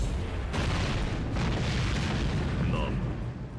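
Gyomei's first super attack in the Demon Slayer video game, a loud opening barrage of heavy booming impacts followed by a rumbling, explosive sustain with a faint whooshing tail, and some talk mixed in.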